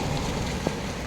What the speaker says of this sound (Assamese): বৰষুণ এইফালে কিন্তু বহুত বৰষুণ দি আছে।